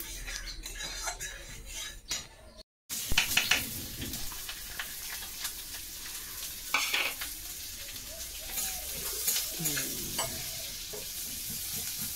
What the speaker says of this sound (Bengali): আর এখন পেঁয়াজ ভাজা করব,